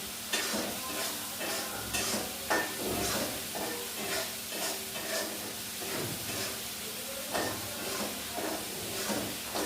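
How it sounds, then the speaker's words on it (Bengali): Boiled potatoes fried with spices in a pan keep up a loud, constant sizzle, while a spatula scrapes and stirs in uneven strokes throughout. "আলুটাকে মশলার সঙ্গে আবার কষিয়ে নিচ্ছি"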